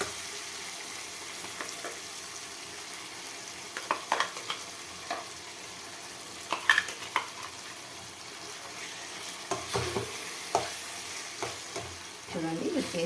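Masala paste with capsicum frying in a pan and being stirred, a low continuous sizzle with scattered scraping and clattering strokes, a few sharper knocks standing out near the end.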